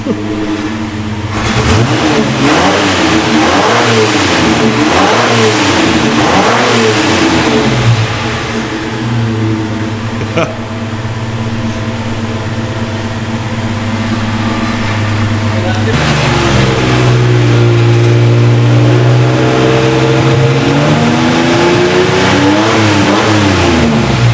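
A Reliant Scimitar engine revs repeatedly, its throaty Cherry Bomb performance exhaust rising and falling, then settling into a deep steady drone, with people talking over it.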